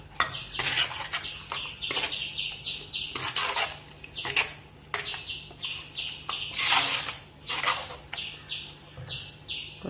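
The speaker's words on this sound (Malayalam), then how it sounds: "പാകത്തിന് വെള്ളവും കൂടി ചേർത്ത് ഇളക്കി വയ്ക്കും." A spoon stirs Kerala-style sardine and mango curry in a pot after water is added, giving repeated scraping strokes and light metallic clinks in an uneven rhythm, with faint bird chirps in the background.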